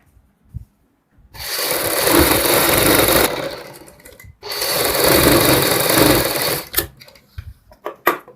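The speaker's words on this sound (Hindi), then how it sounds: "अब हम फिर साइड में सिलाई लगाएंगे।" A sewing machine stitches along the side of a pleated readymade saree with a belt, running in two long steady bursts of rapid whirring with a short pause between them, then a few clicks and knocks as it stops.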